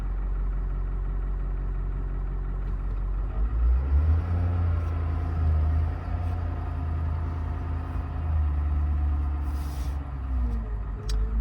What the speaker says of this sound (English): I got a car coming over there I gotta wait for.